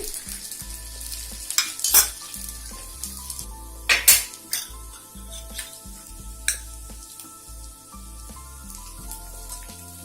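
Ridge gourd dosa fries in a little oil on a covered pan, giving a soft, steady sizzle broken by several sharp metallic clinks and scrapes of a spatula or lid against the cookware, close and clear with no voices.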